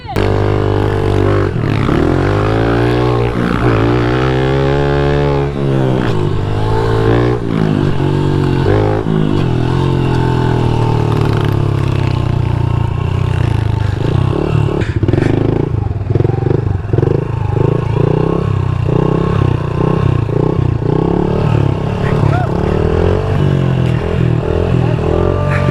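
Small pit bike revving and riding laps on a backyard dirt track, engine loud and close throughout, pitch rising and falling with throttle changes and gear shifts, occasional clatter of the chassis over bumps.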